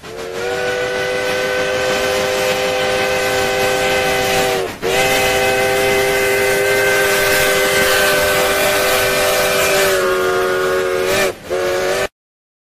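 A loud, sustained train whistle blows almost continuously, cutting out briefly twice, over the rumble of rail cars crossing a bridge.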